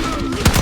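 Shotgun blast in Call of Duty Black Ops 6 gameplay, a loud sharp burst followed by quick repeated gunfire-like bangs within a fraction of a second, over a steady game soundscape.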